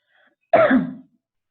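A single short cough rings out, close and sharp, in an otherwise quiet room.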